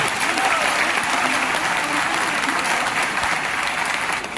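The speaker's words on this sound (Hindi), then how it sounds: "दुनिया की सबसे दमदार भारतीय सेना के जोरदार तालियां" Audience giving loud, sustained applause for the Indian Army, a dense steady wash of clapping with faint voices mixed in throughout.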